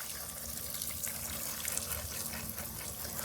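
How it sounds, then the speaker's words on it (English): Water runs steadily from a hose or tap while deep watering garden plants, a soft continuous hiss and gush that stays even throughout, faint and with no talking. "So we want to give the plants a nice, good soaking of water."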